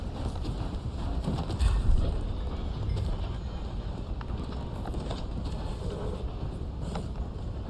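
A Mustang's hooves from Red Dead Online clip-clop in a steady, fairly faint gallop beneath ambient outdoor game sound, with no talking.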